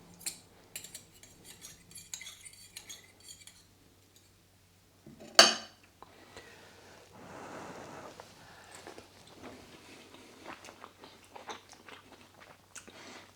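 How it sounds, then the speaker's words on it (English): Spaghetti aglio olio is eaten Sicilian style with a spoon and fork: light metal clinks, one sharp clatter midway, then soft chewing and small utensil taps, close and quiet. "Spoon and fork, Sicilian style of course, and tuck in."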